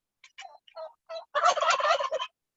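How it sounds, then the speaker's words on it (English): A big tom turkey on a small working farm gobbles close by, starting with a few short separate clucks and then breaking into a loud, rapid rattling gobble, with no voices. "That's the big Tom turkey."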